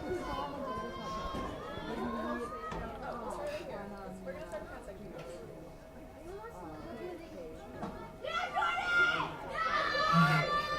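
Friends and family form a crowd at a senior night high school field hockey game, Medfield against Bellingham, with a low outdoor murmur, distant shouts and children's voices beneath steady commentary.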